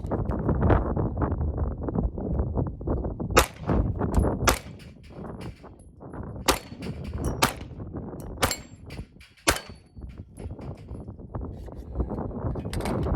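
Ruger and Magpul RXM 9mm pistol fired at an outdoor range, heard as sharp, loud single shots spaced a second or so apart, with wind noise and rustling between them.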